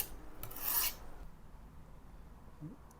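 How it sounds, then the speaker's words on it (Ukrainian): A kitchen knife drawn along a homemade wooden sharpener gives one loud, bright rasping stroke near the start, then quieter low scraping and handling noise, close up with no talk. "І ми отакими рухами починаємо гострити."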